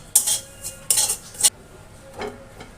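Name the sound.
stirring fried puffed rice mixture in a pan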